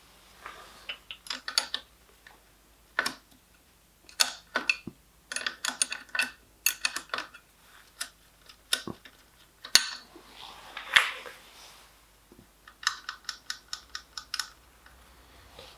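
A wrench works on the clutch cable bolts of a Honda CBR motorcycle, producing close, sharp metallic clicks and ratcheting ticks in irregular clusters, with short quiet gaps between bursts and no talking.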